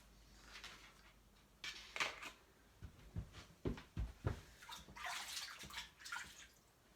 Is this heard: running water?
yes